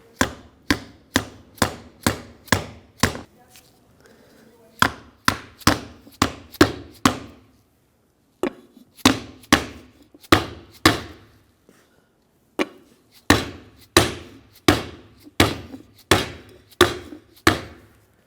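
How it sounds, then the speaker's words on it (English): A rubber dead blow hammer taps a seal into the rear hub of a 2007-2014 Chevrolet Silverado 2500 HD, dull thuds in quick even runs separated by brief pauses, close and distinct. "I'm going to use a rubber dead blow hammer and just tap it down."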